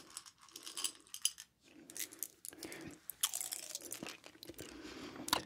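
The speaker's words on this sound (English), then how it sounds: "I'm going to eat a couple more of these Skittles while I shuffle them." Skittles candy is chewed close to the mic in a quiet indoor setting, giving soft, irregular crunchy and sticky mouth sounds. Light clicks and shuffling rustles come and go throughout, with no talking.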